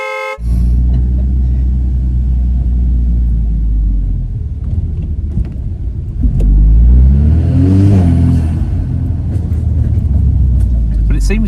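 VW Scirocco R fitted with a Revo induction kit accelerating on a test drive, a loud close engine drone rising in pitch as it revs, with a faint whirring on boost and a brief horn-like toot.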